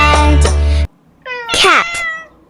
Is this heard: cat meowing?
yes